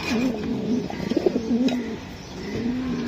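A racing pigeon with a leg tag, in moult, coos repeatedly while being handled, close and clear, with low rolling coos and a few soft rustles between them.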